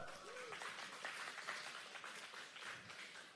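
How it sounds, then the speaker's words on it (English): A conference audience at a crypto wallet event in Bangkok claps in a continuous, muffled round of applause heard from a distance, with faint voices mixed in. "round of applause to yourselves"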